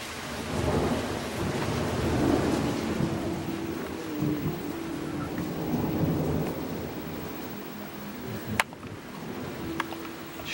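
Thunder rolls through a summer storm in Karelia, a low, drawn-out rumble over steady rain, with a sharp crack near the end and no talk.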